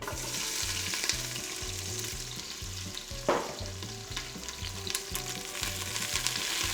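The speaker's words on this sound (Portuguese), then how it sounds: "O nosso primeiro passo é caramelizar a cebola." Onion frying in oil on its way to caramelizing, a steady, fairly soft sizzle up close with rhythmic stirring scrapes and an occasional sharper pop.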